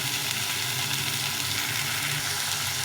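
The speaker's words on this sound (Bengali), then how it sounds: "এখন আমি এটা টবেতে জল দিয়ে দিই" Cauliflower and potatoes sizzle steadily as they fry in a pot, a continuous close crackle with no voices, as water goes in.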